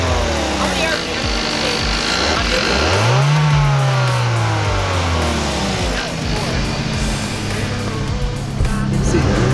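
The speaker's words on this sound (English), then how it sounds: "Anytime she revs that engine, it will only do what it wants to do." A car engine with a throttle body revs hard in neutral, held near full throttle, a loud sustained roar that rises and falls in pitch, with speech over it.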